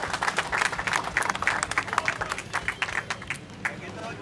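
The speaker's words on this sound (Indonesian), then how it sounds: "Tepuk tangan untuk kebersamaan ini dulu." A group of motorbike riders, big and small bikes together, clap for their togetherness, a lively burst of scattered applause mixed with voices and crowd chatter nearby.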